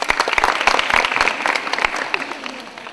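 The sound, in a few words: audience applause for correct quiz answer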